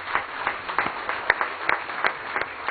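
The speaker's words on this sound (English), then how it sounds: "a huge applause" An audience at a launch event claps in a brief, even burst of applause from a crowd, steady and fairly close.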